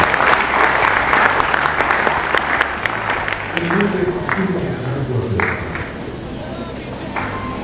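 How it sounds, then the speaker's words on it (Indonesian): Audience applause fills a hall at a school profile event, a dense wash of clapping heard loud from the start and slowly easing, with a few distinct claps and voices murmuring beneath. "Mohon tepuk tangan sekali lagi."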